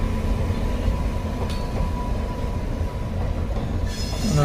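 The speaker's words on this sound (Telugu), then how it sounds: "9:12 వేమూరు నుంచి రేపల్లి వెళ్తున్న రైలు చూస్తున్నాం." A passenger train running from Vemuru to Repalle rolls past with a steady, loud rumble of wheels on rails, and a brief metallic squeal rises near the end.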